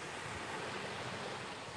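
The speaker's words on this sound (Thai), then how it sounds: "มาแค่นั่งฟังเสียงคลื่นนั่งฟังทะเลอย่างเงี้ย" Sea waves washing onto a shore, a soft, steady broadband hiss of surf with gentle wind noise, fairly faint and continuous, with no voices.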